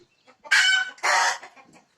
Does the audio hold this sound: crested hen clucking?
yes